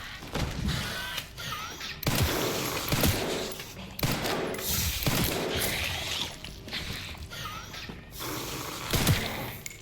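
Bursts of gunfire in the video game Resident Evil: repeated sharp shots and short volleys, some several seconds apart, with thuds and mechanical clicks in between.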